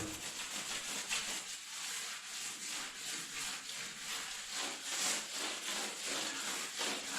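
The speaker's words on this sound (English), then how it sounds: "rinse the sponge well and take it again with the abrasive side" Abrasive side of a sponge scrubbing mosaic tiles, a faint repeated rubbing and scraping in quick back-and-forth strokes, close and continuous without talking.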